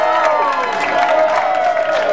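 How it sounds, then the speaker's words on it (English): Crowd at the Italian Fingers Championship 2012 championship round clapping and cheering together, a brief, loud burst of applause with whoops mixed in. "nice round of applause for everybody that participated here today"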